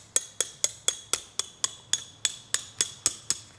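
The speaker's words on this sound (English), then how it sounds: "hammer around it." Metal hammer blows on sheet metal shaped around a tube held in a vise: about twelve crisp, ringing strikes at a steady, quick rhythm, close and clear with no talk.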